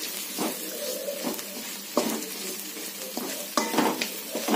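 Sliced onions sauté in a hot pan for a snack recipe, giving a soft steady sizzle broken by several scraping stirs of a spatula, close and fairly quiet with no talking.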